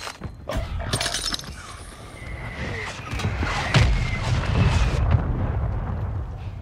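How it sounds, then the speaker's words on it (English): Mortar strike explosions in Warzone Rebirth Resurgence rumble in as a run of heavy blasts with shattering debris, building louder over several seconds, close and booming, with no talking. "Mortar strike inbound."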